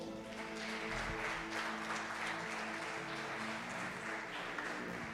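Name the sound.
church congregation applause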